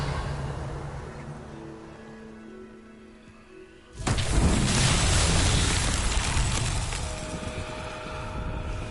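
Revelio spell cast in Hogwarts Legacy: a quiet ambient bed gives way to a sudden loud magical whoosh and shimmering wash that swells and lingers for several seconds, with no voices.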